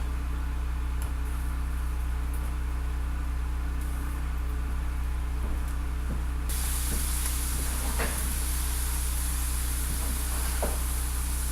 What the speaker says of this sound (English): I've started my moose meat and my pork in the frying pan.